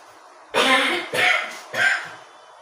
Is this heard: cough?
yes